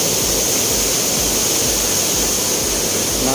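Kundah waterfall in the Nilgiris, a loud, continuous roar of falling water that fills the whole clip with dense, even hiss and rumble, with no voices.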